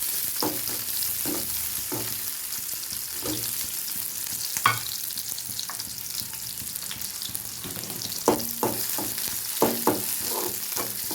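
Onions frying in a pan for a South Indian lunch of potato stir-fry, a low steady sizzle under scattered clinks and scrapes of stirring, close and moderate in level.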